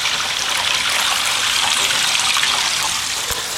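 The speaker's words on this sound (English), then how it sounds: "It's rushing through with no leaks." Sump pump runoff water rushing through a sealed plumbing pipe, a steady loud gushing hiss that carries on evenly and close throughout, with no voices.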